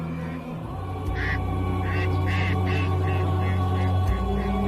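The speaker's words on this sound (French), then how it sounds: "Oh, un oiseau migrateur." A migratory bird gives a series of honking, quacking calls over a sustained humming background score, the calls coming in short repeated bursts at moderate distance.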